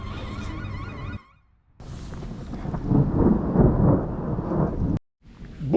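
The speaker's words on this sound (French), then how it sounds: "l'orage est là, la pluie avec" A thunderstorm in Bulgaria with heavy rain hissing steadily and low thunder rumbling, broken by a couple of brief dropouts.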